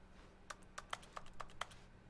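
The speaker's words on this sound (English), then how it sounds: "why do the doorknobs sound like a keyboard?" Doorknob clicks from the video game The Stanley Parable, six sharp, dry taps spaced unevenly like keystrokes on a computer keyboard, close and fairly quiet over a faint hum.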